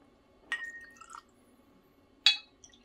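Gentleman Jack whiskey and Coke are poured into a glass in two short, quiet splashes with faint dripping and a light glassy clink between them, in a still room.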